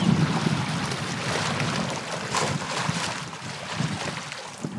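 Waves washing on a Shetland beach, a continuous rushing surf with gusty wind noise, steady and fairly near, with no voices.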